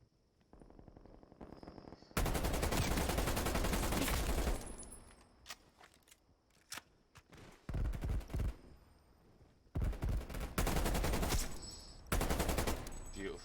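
Gunfire in a competitive shooter video game match, loud bursts of rapid automatic shots separated by short pauses and single cracks, with commentators talking at times.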